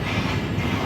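An iron ore freight train of 200 wagons gives a brief, steady, heavy rumble of rolling wagons, continuous and fairly loud.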